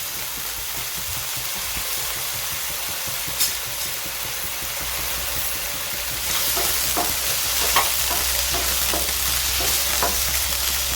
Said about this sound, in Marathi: हा जो बटाटा चिरून घेतलेला आहे ना आधी आपण तेलावर परतून घेत आहोत